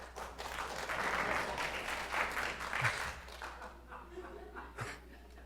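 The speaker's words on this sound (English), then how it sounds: "I didn't expect applause." Sustained audience applause with scattered chuckles fills a hall during a church sermon on grace and accountability, steady and fairly loud before tapering off.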